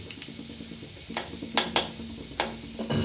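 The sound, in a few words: garlic frying and being stirred in a pan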